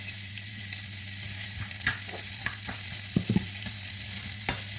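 Onion frying in a small amount of very hot oil, a steady close sizzle with occasional pops and spatula scrapes stirring the pan, with no speech.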